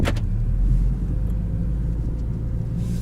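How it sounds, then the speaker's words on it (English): Interior drone of a 2018 Ford Focus ST's turbocharged engine while driving, a steady low rumble with a faint whine, constant and close throughout with no talking. "And you can really hear the turbo."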